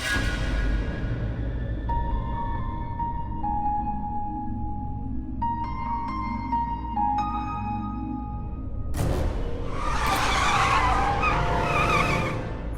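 A car driven fast hums along with a steady engine tone, then its tires break into a loud, harsh skid and squeal near the end. Nobody speaks.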